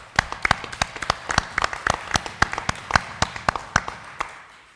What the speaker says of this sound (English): I appreciate that applause